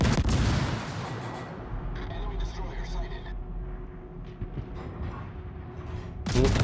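Heavy naval guns on a cruiser in World of Warships boom out in a loud opening salvo, followed by quieter rumbling and scattered impacts, then another big blast at the end.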